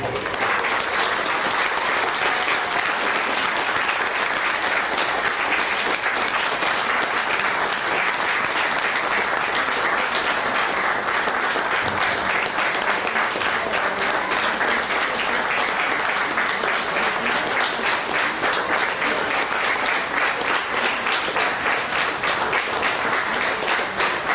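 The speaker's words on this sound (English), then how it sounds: "just by a minute's applause" A crowd at a Loughlinstown community 40th anniversary celebration gives a long, sustained minute of applause in memory of departed family members and friends, steady dense clapping filling the room without pause and no talk over it.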